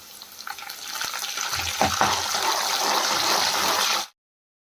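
Curry leaves go into hot oil with onions already fried brown, raising a loud, steady sizzle that swells after a brief clatter and runs on for several seconds before cutting off abruptly.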